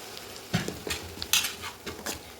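Soft sizzling of chopped green chillies frying in a pan with a few scraping stirs of a utensil, close and fairly quiet, no voices.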